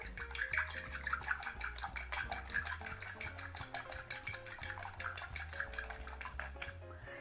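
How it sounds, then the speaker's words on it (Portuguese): Two eggs beaten in a bowl with a utensil, a quick, steady clatter of metal tapping against the bowl, repeated strokes in a brisk, even rhythm, close and fairly quiet. "Vamos dar uma batida nesses ovos aqui."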